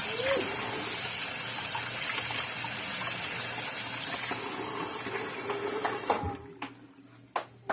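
Tap water runs steadily during handwashing, a continuous broadband rush that stops abruptly near the end, leaving a few clunks and handling noises.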